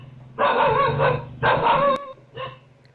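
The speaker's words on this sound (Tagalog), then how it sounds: "Sinugod at tinahulan ng dalawang aso ang lalaking yan na kawatan pala." Two dogs bark at a thief in three sharp, loud bursts close by, with a low background hum between the barks.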